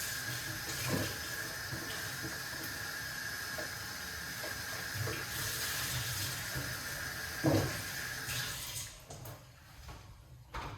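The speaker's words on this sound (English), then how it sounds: "I'm going to wash off the kiwi." Tap water runs over a kiwi as it is washed, a quiet continuous hiss with scattered splashes and handling knocks, cutting off near the end.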